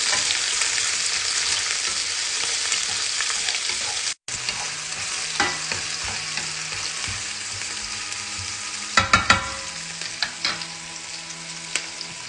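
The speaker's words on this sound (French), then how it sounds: "Une fois les oignons découpés, je fais revenir les oignons." Chopped onions fry in a pan, a close, steady sizzle with stirring scrapes and a few sharper clinks near the end, broken by one brief dropout.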